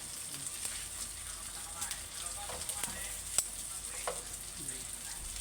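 Pork barbecue frying in hot oil at home, a low continuous sizzle with scattered small pops and crackles, fairly quiet and close, with no talking over it.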